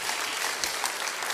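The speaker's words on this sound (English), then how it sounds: "A round of applause once again for Mahendra and Mudli." Steady, dense applause from a conference audience at an audit committee event, filling the short moment without pause and with no voices over it.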